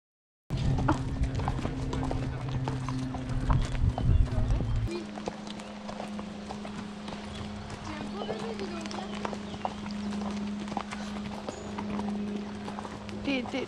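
Pony hooves clip-clop steadily through a dressage lesson, with a loud low hum over the first few seconds and a quieter, even rhythm of steps afterward, while people talk throughout.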